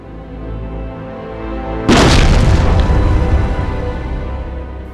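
A hand grenade explodes with a sudden loud, broad blast about two seconds in, its rumbling roar lingering and slowly decaying over a steady low background.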